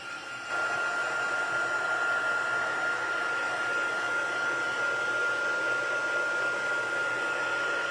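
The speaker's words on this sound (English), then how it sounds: "heat tool to dry it" Handheld crafting heat tool blowing to dry a stamped paper card, switching on with a jump in level and then holding a steady loud whirring hiss with a thin high whine.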